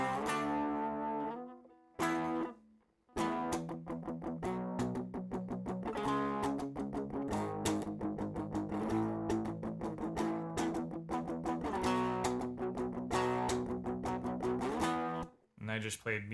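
An electric guitar runs through a dirt distortion pedal, with dense chords and rhythmic riffing that stop briefly near the start and again near the end.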